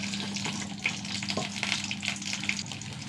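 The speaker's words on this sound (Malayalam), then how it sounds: "കടുക് ഇട്ട് കൊടുക്കുക." Mustard seeds spluttering in hot coconut oil, a dense crackling sizzle with scattered small pops, close and steady throughout.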